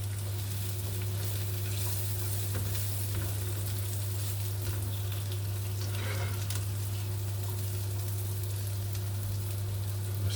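Onions fry in steak juices in a pan for a steak and oyster pie, giving a steady close sizzle and crackle under a constant low hum, with an occasional faint stir and no speech.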